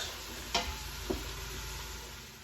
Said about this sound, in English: everything's sauteing away in here